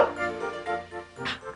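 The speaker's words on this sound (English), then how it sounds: "A dog? I didn't know we had a dog." Small dog barking indoors in a house, a few short yips and bow-wows over a steady background of music and household sound.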